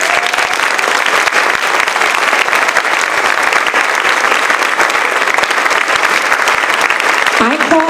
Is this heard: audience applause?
yes